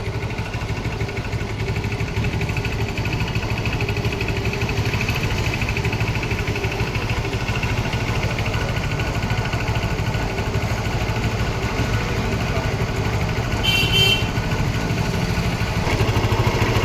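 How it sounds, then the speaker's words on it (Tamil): A TVS motorcycle engine idles steadily throughout, a low continuous rumble with a faint brief high whine near the end. "இப்போ வந்து இன்ஜின் ஸ்டார்ட் ஆகிடுச்சு"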